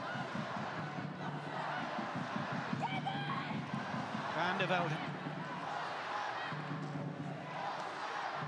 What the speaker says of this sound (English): Exeter fans are cheering it on.